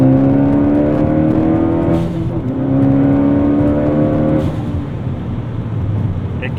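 Ford Focus ST with a Borla exhaust floored, heard from inside the cabin: a loud, rising engine drone that drops at each gear change and climbs again, with a harmonic whine layered on top.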